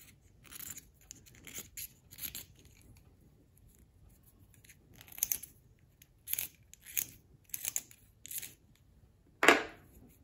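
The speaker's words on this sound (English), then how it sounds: "I just cut it off with scissors." Scissors snipping burrs off the ends of 3D-printed training sticks, a series of close, sharp clicks and cuts scattered over the clip, ending with one louder snap.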